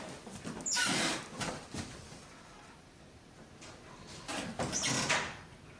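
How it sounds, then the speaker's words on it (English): A door in an old cottage creaks and scrapes in two separate bursts of movement, moderately close and rather faint against a hushed, breathy background. "That's the door."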